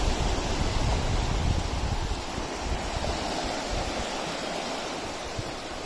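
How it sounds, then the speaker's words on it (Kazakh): Waves wash steadily onto the stony beach of Lake Balkhash, a continuous broad rushing surge with some wind noise, fairly close and without speech. "Толқындарды айтсам, толқындарды."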